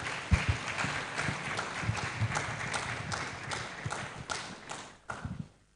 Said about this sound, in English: Shall we give our second session panelists a big round of applause to welcome them?